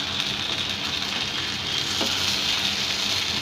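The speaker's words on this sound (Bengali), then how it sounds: "ফ্রাই প্যানটাকে ঘুরিয়ে সবগুলো গায়ে লাগিয়ে নিচ্ছি তেলটা, আর আরেক পাশ ভাজা হওয়া পর্যন্ত আমরা অপেক্ষা করে নিচ্ছি।" Round eggplant slices fry in oil in a frying pan, giving a steady, dense sizzle that holds at an even level throughout with no voices.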